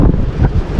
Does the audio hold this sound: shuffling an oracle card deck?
no